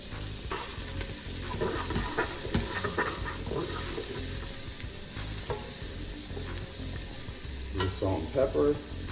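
Garlic and onions sizzle and crackle in a hot pan while a spatula scrapes and stirs them, a steady close frying hiss with irregular scraping knocks, busiest near the end.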